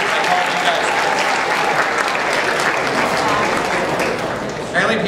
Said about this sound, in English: Give them a big round of applause, guys, because without them, the show would not happen.